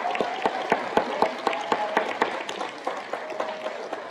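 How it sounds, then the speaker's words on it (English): An audience at a HiSET graduation ceremony claps for the graduates: a fairly sparse round of applause with distinct individual claps sounding in an uneven rhythm, moderately close and steady for several seconds. "Let's everybody give them another round of applause."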